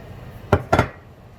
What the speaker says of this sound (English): So now we're going to just mix this thoroughly so it absorbs in there.